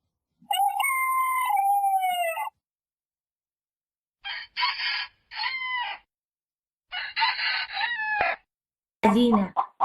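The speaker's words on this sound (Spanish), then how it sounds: "Gallo." A rooster crows in a long, loud call, followed by several shorter bursts of crowing and clucking, clear and close, set in a sequence of farm animal sounds.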